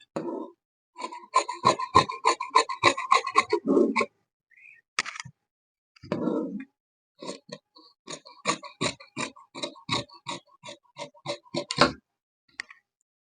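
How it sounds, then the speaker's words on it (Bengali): Scissors cutting blouse fabric in bursts of crisp, rapid snips, close and clear, with short pauses between runs of cuts. "এই যে এখন আমরা এভাবে কাপড়টি কেটে নেব"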